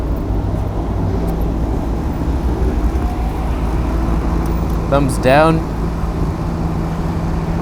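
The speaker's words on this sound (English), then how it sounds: "That's a good truck there." A truck drives past on the road, its engine noise swelling briefly and then fading against steady traffic rumble, while someone talks nearby.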